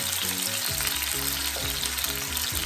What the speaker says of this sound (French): je fais frire de deux côtés chaque lamelle